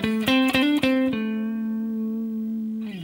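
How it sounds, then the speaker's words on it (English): A short pentatonic run of plucked electric guitar notes leading into the verse, several quick attacks climbing and falling, ending on one long sustained note that rings out and fades. "we'll play a little pentatonic phrase to get us into the verse"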